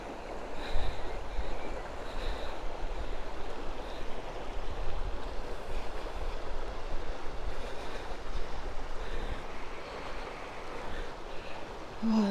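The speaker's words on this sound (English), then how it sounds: "I hope you can hear the water." River water flowing near a weir in Dean Village, a soft continuous rushing wash heard at a moderate distance, steady and unbroken with slight wind on the microphone.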